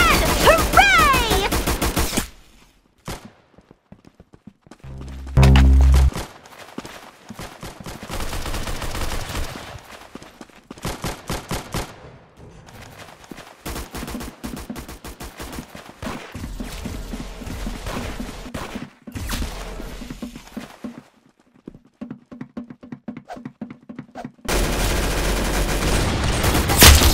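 Gunfire in a competitive-mode video game comes in repeated bursts and rapid volleys, loud and sharp, separated by short quieter gaps, with faint voices mixed in.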